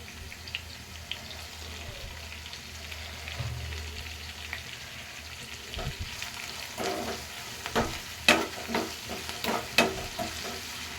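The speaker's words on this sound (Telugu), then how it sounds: "ఆనియన్స్ ఫ్రై అవ్వడానికి కొంచెం అయితే సాల్ట్ వేసుకుంటున్నాను" Onions fry with salt in a pan, giving a quiet, steady sizzle broken by clattering scrapes and stirring knocks that grow louder and sharper toward the end.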